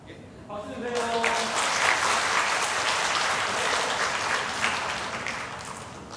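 A Sunday church congregation breaks into loud, steady applause after a brief spoken phrase, the clapping dense and continuous throughout.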